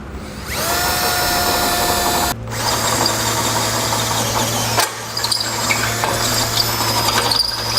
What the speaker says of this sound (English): Next, we'll take our 1/2-inch drill bit and open the hole to the correct size.